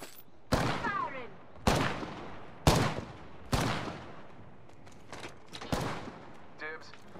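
Loud shotgun blasts from a Mastiff in Apex Legends, five heavy booming shots spaced about a second apart, each with a short ringing tail, alone without talk.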